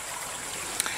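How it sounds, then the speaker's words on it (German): A small brook running through a property near an old mill, giving a soft, steady babbling and trickling wash of water, faint and continuous, with a brief splash near the end. "das Plätschern vom Bach ist, glaube ich, ein bisschen cooler als wir die Schleifmaschine"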